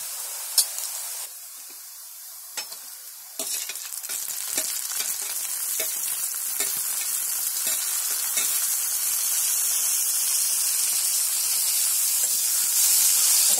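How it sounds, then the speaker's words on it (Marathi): Tomatoes drop into onions frying in a pan for a homemade chicken curry, setting off a loud sizzle that swells into a sustained bright hiss, with a few clinks early on and nobody talking. "आता त्याच्यामध्ये आहे ना हे टोमॅटो टाकते."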